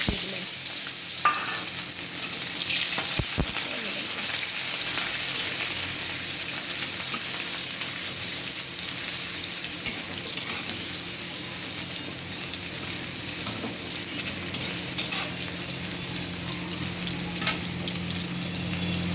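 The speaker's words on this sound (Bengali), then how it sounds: "পেঁয়াজ ভাজা হয়ে গেছে" Onions fry in oil with a long, continuous sizzle and occasional scrapes of stirring, close and steady throughout.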